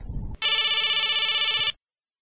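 A telephone rings in one continuous electronic trill lasting over a second, loud and close, after a brief low rumble, then stops into silence, on a TV comedy game show set.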